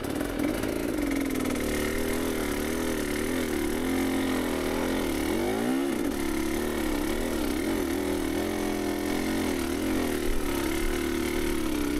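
A motorcycle fitted with an XTNG GEN3+ carburetor runs steadily close by, its engine note wavering slightly with a brief dip and recovery midway, continuous with no talk.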